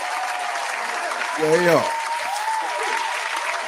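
An audience claps steadily for Big Herm and Big Larry, a dense crowd applause that runs throughout, with a voice briefly cutting in over it.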